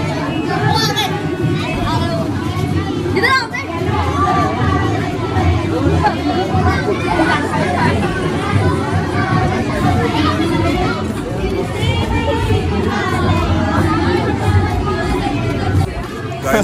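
Dense crowd babble at the Uttarayani fair in Bageshwar, many voices chattering continuously and loudly, with children's voices mixed into the steady hubbub.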